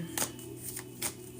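Quick riffling bursts of cards being shuffled, close up, two or three short rustles against a quiet background.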